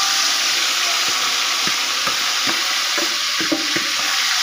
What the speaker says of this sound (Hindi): गर्म ऑयल में ये चिकन मैंने शामिल किया